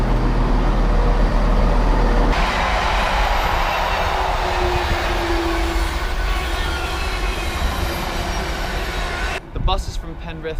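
Passenger train running towards Penrith, a steady rumbling roar of the carriage interior with continuous broadband rail noise throughout and a brief clatter near the end; a voice speaks faintly beneath it.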